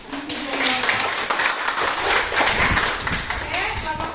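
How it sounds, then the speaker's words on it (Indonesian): An audience in a chemistry class presentation applauds, a sustained wash of clapping hands lasting several seconds, fairly loud and close. "Kita beri aplaus."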